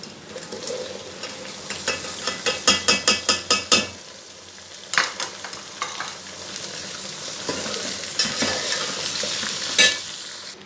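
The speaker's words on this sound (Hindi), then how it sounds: "यहाँ मैंने प्याज चढ़ा दिए हैं, जिसमें मैंने डाली है बारीक कटी हुई अदरक, लहसुन, प्याज और साबुत लाल मिर्च। इन्हें फ्राई करते हैं।" Onions, ginger, garlic and whole red chillies fry steadily in a pan for potato bhujia, a constant close sizzle broken by a run of sharp rhythmic stirring clacks and a few later spoon knocks, with no talking.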